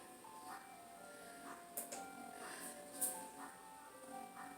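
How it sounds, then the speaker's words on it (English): Faint tinkling chime music plays from an ice cream truck passing at a distance, with soft background noise and a few brief clicks. "the machine guy is here with the ice cream. You hear him?"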